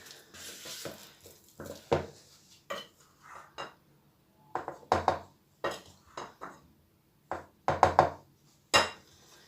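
Spatula stirring thick chocolate chip cookie dough in a bowl, heard as a series of close, irregular scraping knocks and clatters separated by brief pauses.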